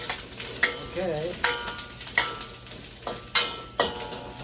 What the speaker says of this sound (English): I like to hear that sizzle